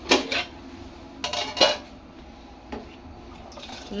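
Rice is tipped into a metal cooking pot, making a few sharp clattering rattles of grains and metal, with a brief burst at the start and another near the middle, close and clear, with no talk.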